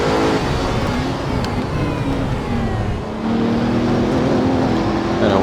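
Bugatti Chiron pushing toward top speed in the racing game Assetto Corsa, a loud sustained engine roar with rising tonal whine, briefly easing before climbing again, heard up close and alone.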